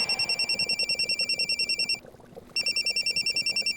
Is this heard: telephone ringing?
yes